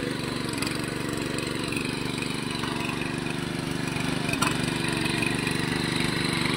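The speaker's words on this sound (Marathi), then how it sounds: "आता परत एकदा फिरवणार ट्रॅक्टर, म्हणजे मातीची लेवल सारखी होईल, एका लेवलमध्ये होईल." A tractor runs over a Konkan paddy field to level the soil after its blades were changed, its engine holding a steady mid-pitched chug close by throughout with faint clanks.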